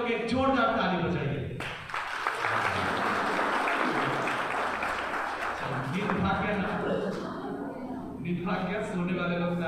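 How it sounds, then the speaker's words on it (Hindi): Audience clapping at a Christmas church sermon in Hindi, a burst of many hands that swells in the middle and fades, with a preacher talking over the start and end. "सोने वाले लोग ताली बजा दिए"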